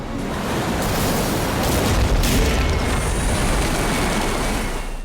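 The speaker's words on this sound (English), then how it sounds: "This giant wave hits the boat." A giant ocean wave slams into a boat grounded on a reef, a loud, thick rushing roar that swells to a peak and then sustains as heavy churning water, with no speech.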